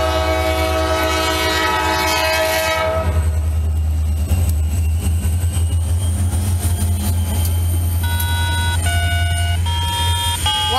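A Wheeling & Lake Erie freight train passes close and loud at a siding in Hopedale, with a sustained horn blast at the start, then a steady heavy rumble of rolling cars and bell-like tones near the end.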